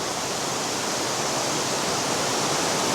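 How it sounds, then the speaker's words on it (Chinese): A waterfall pouring from the ceiling inside Tenglong Cave, a huge limestone cave in China, makes a dense, unbroken hiss-roar, steady and fairly loud throughout. "就是这个瀑布"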